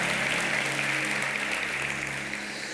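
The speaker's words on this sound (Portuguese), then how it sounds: "Você pode dar um aplauso ao Senhor para a gente fazer barulho nesse lugar?" A church congregation applauds in praise, a steady dense wash of clapping held at even loudness from start to finish, with a low hum running beneath it.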